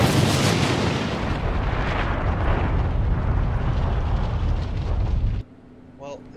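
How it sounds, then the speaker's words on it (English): A rocket turret in a video game blowing up and wrecking conveyor belt platforms, a long, dense roaring blast that holds loud for several seconds, then drops off sharply into quiet with a brief tonal chirp. "that rocket turret has given us an exit, but has destroyed some of the conveyor belt platforms"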